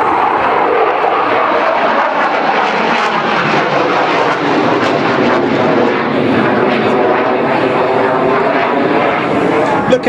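An F-18 Hornet jet, hook hanging down, roars overhead while flying a dirty barrel roll at the Malta air show, a loud continuous engine rush with an announcer speaking over it.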